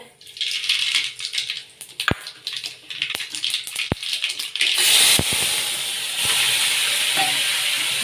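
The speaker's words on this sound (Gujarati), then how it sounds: "આપણે શાક વઘાર કરી લઈએ" Chana dal vegetable dish being tempered in hot oil in a village kitchen: scattered clinks and soft rattles give way midway to a loud, steady hiss of sizzling oil that continues to the end.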